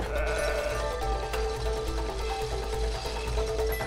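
A video game sheep bleats over a constant background drone, a wavering nasal call that holds for a few seconds, in It Takes Two.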